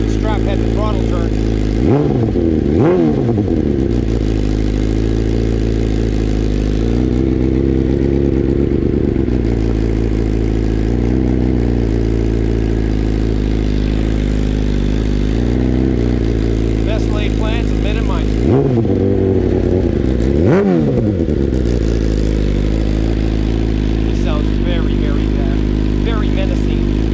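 A 2021 BMW S1000RR fitted with a full titanium Akrapovic exhaust idles loudly up close, with a few sharp throttle blips that rise and fall, and a voice talks briefly.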